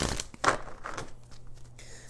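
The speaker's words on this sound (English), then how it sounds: "let's do 4 major shuffles and really pull the energy here for the Virgo gang watching this reading" A deck of tarot cards is shuffled by hand, giving several crisp riffling and rustling bursts up close, with no voice over them.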